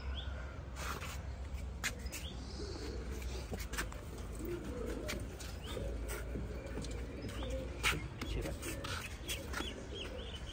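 Pigeons kept for sale at a loft, giving soft low cooing throughout against a steady hum, with scattered higher chirps and clicks from other birds and faint background voices.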